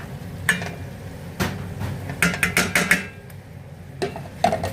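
Fish pieces coated in chilli and salt hit sizzling oil for fish curry and get stirred, with a low hiss beneath sharp clanks and scrapes of a utensil against the pan in clustered bursts.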